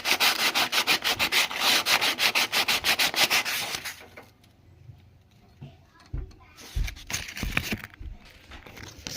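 Old sandpaper residue being sanded off a cast iron air compressor head, a loud rhythmic back-and-forth rasping for about four seconds, then quieter scraping and handling knocks.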